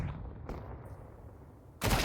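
Counter-Strike 2 gunfire during a competitive match, two quick sharp shots in the first half second followed by a louder burst at the end, faint and somewhat distant.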